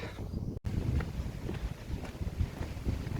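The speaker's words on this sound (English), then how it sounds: "The wind is starting to pick up now" Outdoor wind gusts and rushes across the microphone with a low buffeting rumble, steady and fairly close throughout the short stretch.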